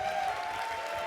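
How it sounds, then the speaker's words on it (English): Audience applause at a QuakeCon 2014 finals party, a steady wash of clapping from a crowd that stays even and fairly loud for the whole brief moment, with no pauses. "Jenny, give a huge round of applause."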